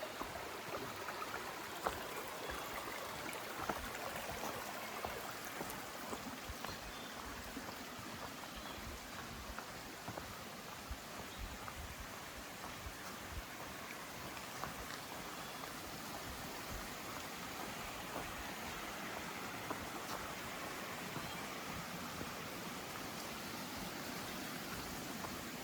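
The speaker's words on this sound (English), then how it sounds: "Nothing quite like the sound of rushing water first thing in the morning." A stream rushes steadily on a morning trail, a broad, even wash of water noise that holds constant throughout, soft and continuous with no voices.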